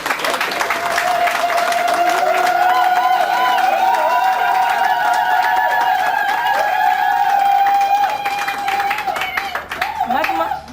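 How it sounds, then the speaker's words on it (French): Applause from guests at a civil wedding ceremony after the bride's consent, a steady wash of clapping and cheering lasting about ten seconds, with a voice and music-like tones running over it before it fades. "On applaudit pour"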